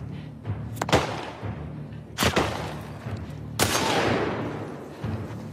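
Gunfire in The Last of Us Part 2 on PS5: three sharp, loud shots spaced about a second and a half apart, each followed by a lingering rumbling tail over a low, steady background hum.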